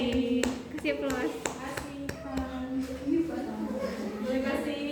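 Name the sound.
classroom applause for a student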